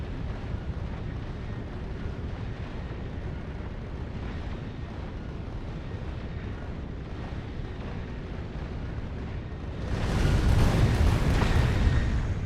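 Rocket explosions batter asteroids in a video game as a steady low rumbling roar, then a louder, brighter blast swells in near the end and keeps booming.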